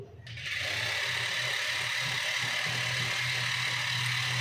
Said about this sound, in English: speed of the DC motor is high